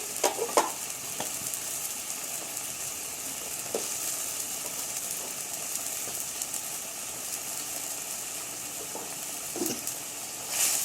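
Onions and salt fry in a pan for Bangladeshi tehari, giving a steady, even sizzle with a few faint stirring clinks, no talk.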